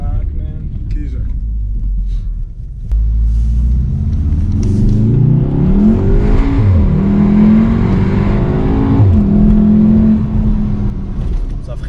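A Volkswagen Golf R launches hard with launch control, engine surging from a low rumble into a loud climbing roar through quick gear shifts, with occupants talking and exclaiming inside.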